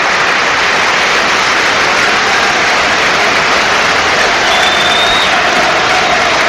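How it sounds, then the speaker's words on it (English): A football stadium crowd at Manchester vs Newcastle United roars and applauds for substitute Martinez. The dense wash of cheering is loud and steady throughout, with no individual voices standing out. "the biggest cheer will no doubt be for Alessandro Martinez"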